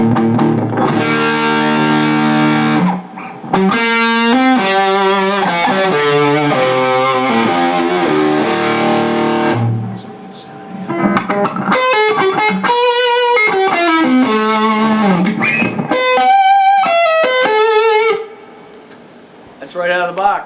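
A PRS guitar amp, fresh out of the box, on its distortion channel with the gain turned up and the reverb eased down slightly; loud overdriven electric guitar chords and riffs ring out with sustained notes and short pauses, and no one talks.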